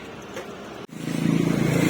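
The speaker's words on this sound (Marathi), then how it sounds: "पप्पाची गाडी आली बघा" A car pulls up, its engine rumble rising out of quieter background noise and holding steady and fairly close for the last second.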